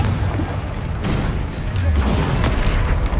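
Casting the Confringo spell in Hogwarts Legacy sets off booming blasts: a short burst of explosive thuds and crackles with a second impact, all close and loud.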